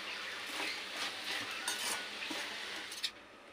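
A spoon stirs dried prawn and egg curry in a pan, producing soft scraping and light clinks over a low simmering sizzle, close and fairly quiet.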